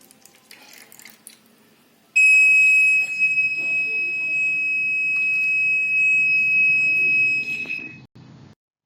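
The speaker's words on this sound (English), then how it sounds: "we can hear the buzzer sound from buzzer" The piezo buzzer of a DIY IC555 timer water level indicator emits a loud, continuous high-pitched tone for about six seconds, with faint water trickling and handling noises under it before it cuts off.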